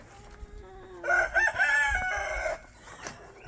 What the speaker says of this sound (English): But chickens are doing good.